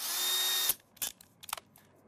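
A power drill fitted with a metal drill bit whines loudly at high speed for most of a second, then stops abruptly, followed by a few short scraping and clicking sounds.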